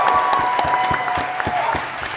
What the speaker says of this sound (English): I want you to applaud right now if Sean Pitts has hooked you up at some point in this trip